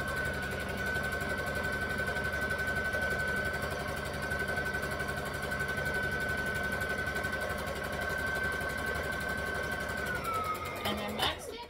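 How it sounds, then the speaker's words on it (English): A sewing machine runs steadily for about ten seconds, stitching a diagonal line across layered fabric for an unpaper towel, with a sustained whir that stops near the end. "you're then going to sew a diagonal line."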